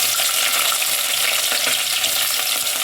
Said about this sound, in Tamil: இப்போ வாங்க வெங்காயம் சேர்த்துக்கலாம்